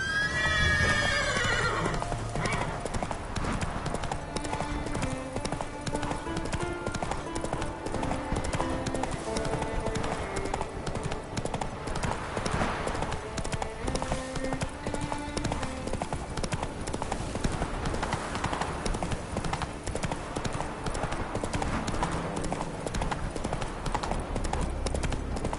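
Horse trotting with a rhythmic clip-clop of hooves and repeated neighing and whinnying, sounding close and loud over a busy, musical background throughout.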